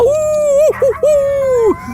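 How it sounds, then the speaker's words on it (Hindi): Dogs at night give a long, wavering howl with a clear tone, breaking briefly into short yelps before resuming, loud and near. "कुत्ते भौंक रहे हैं।"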